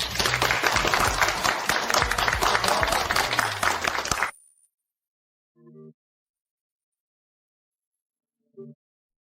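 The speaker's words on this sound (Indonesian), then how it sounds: "Sekarang, mari kita tepuk tangan yang meriah." Loud, dense applause from a crowd at an award presentation lasts about four seconds, then cuts to near silence with only two faint short sounds afterward.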